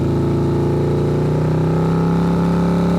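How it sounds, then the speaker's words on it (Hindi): A motorbike engine in a cartoon story, ridden to the office each morning: a loud, steady mid-pitched drone that gradually rises in pitch as it revs up, with no voices over it. "रोज सुबह वो अपने बाइक लेकर ऑफिस जाता है"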